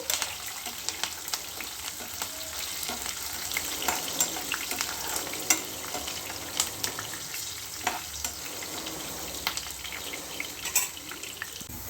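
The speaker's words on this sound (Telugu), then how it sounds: "ఆనియన్స్ కొంచెం వేగాక మిగిలిన వెజిటేబుల్స్ అన్నీ వేసుకున్నాము." Vegetables and softened onions sizzle in a hot pan for vegetable fried rice, a steady close frying crackle with occasional stirring scrapes and clatters, no voices.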